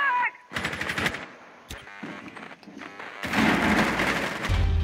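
Rapid automatic gunfire in the tactical shooter Rainbow Six Siege on the Coastline map, loud and close, in two dense bursts separated by a short single shot and quieter game sounds.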